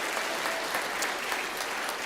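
An awards-night audience at a motorsport champions ceremony claps in a dense, even round of applause that holds steady for a couple of seconds.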